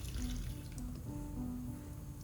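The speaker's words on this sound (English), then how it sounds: "Put the nuts back to the pot and then add fresh water." Fresh water pours into a pot of boiled chestnuts, a steady low splashing and gurgling of liquid filling the pot, close and continuous with no voices.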